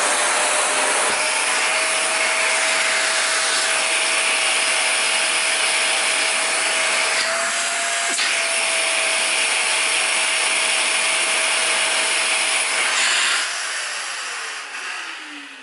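A Dyson V11 Gen 5 cordless vacuum cleaner runs on max with a loud, steady high-pitched whine and airy rush, a few brief bumps along the way, before the motor winds down near the end.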